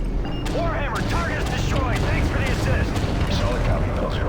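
Gunfire in the video game Call of Duty Modern Warfare 3, with dense rattling shots and booming impacts over a constant battle rumble, and shouted voices in the game mixed through the noise.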